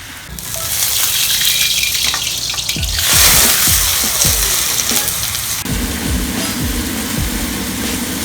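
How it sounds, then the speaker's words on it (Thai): Plain water bubbling and sizzling in a hot pan, the first step for a mashed potato cheese bake; a loud, steady hiss of boiling and spattering runs throughout with a few sharper clinks midway. "ขั้นตอนแรกเราจะทอดน้ำเปล่าซะก่อนนะครับ"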